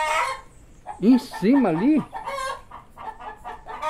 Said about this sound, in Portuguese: as galinhas resolveram tudo fazer festa